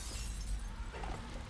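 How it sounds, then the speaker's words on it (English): Glass shattering in the stealth video game Dishonored, a short, dense crash of breaking panes filling the whole moment, loud and close with no voices over it. "Hearing shattering glass."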